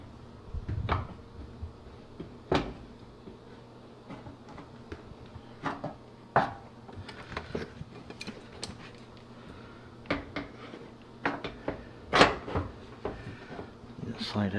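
A GE gas dryer's front door panel is lined up and slid into place, making a series of sharp knocks, clunks and metallic clicks spread through the stretch, close by with little other sound.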